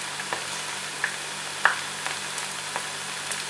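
Spiral potato twister frying at home in a generous amount of oil: a steady, soft hiss that holds throughout, with a few sharp pops scattered across it.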